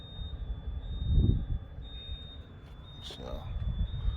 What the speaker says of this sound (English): There's an alarm going off in here.